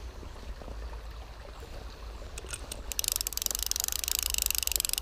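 A small stream flows and trickles softly in the background, a faint continuous babble that grows slightly brighter and splashier toward the end.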